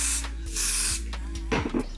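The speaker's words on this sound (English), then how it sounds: "I'm just taking my Even Wonder lace bond right here and spraying that on" Even Wonder lace bond adhesive spray is applied to a wig in short bursts: several close, sharp hissing sprays of aerosol, with a faint rustle of handling at the end.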